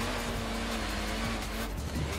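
Land Rover engine droning steadily as it drives through snow in Forza Horizon 4, a continuous close, loud tone with tyre and surface noise beneath, no voices.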